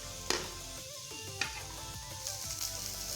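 Onion roasting in a pan for misal pav masala, a steady close sizzle with occasional clinks and scraping of a utensil against the pan, no speech.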